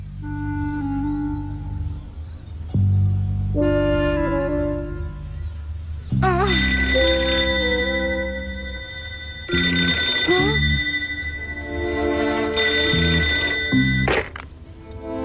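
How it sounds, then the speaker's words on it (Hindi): In a Hindi-dubbed Doraemon cartoon, a telephone rings at night in a series of loud, repeated electronic bursts with brief pauses between them, set against cartoon music. "डेकिसुगी के कमरे में फोन है और जब रात होती है तो फोन आने शुरू हो जाते हैं।"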